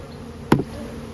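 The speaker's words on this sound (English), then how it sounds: "And I'm going to shake all these bees" Honey bees shaken from a frame into a 10-frame deep hive give one short buzzing thump and hum, close and brief, amid faint background noise.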